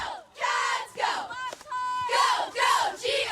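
High school cheerleaders from the Whitney Wildcats squad in Rocklin chant a cheer in unison, loud, rhythmic bursts of shouted voices echoing in a gym or stadium, repeating in short phrases with brief pauses between.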